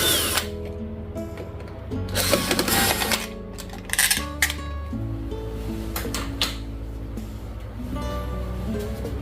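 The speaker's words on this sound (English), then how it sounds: "you can come in with a electric screwdriver and just pull this out" An electric screwdriver backing out the screws of a wall switch or socket plate, heard as close motor whirring in several bursts, with pitch shifts and brief pauses between runs.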